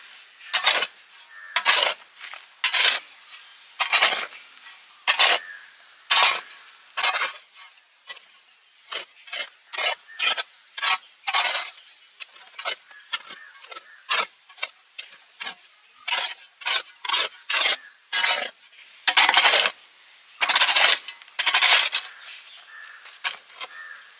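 Hoe mixing powder into potting mix, a series of sharp scraping and clinking strokes in an irregular rhythm, close and fairly loud with short pauses between strokes.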